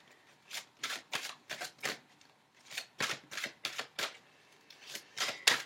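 Tarot cards shuffled by hand in a quick series of crisp riffling bursts, a dozen or so close rustling sweeps separated by brief pauses, quiet and without talk.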